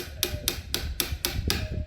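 A metal hammer drives a new chisel into a wooden door to cut a mortise for a fingerprint smart lock. Six sharp, evenly spaced strikes land about every quarter second, close and fairly loud, with no talk.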